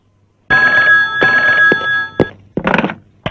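A cell phone rings in a Telugu movie scene: two loud, steady electronic ring bursts close by, each about a second long, followed by a couple of sharp thumps and a short rustling clatter.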